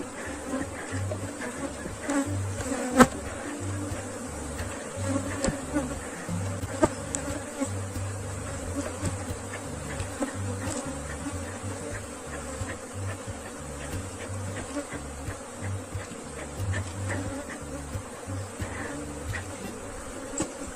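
Honeybees buzzing in a steady, dense drone around an open hive as frames are handled during colony division, with occasional louder individual bees passing close.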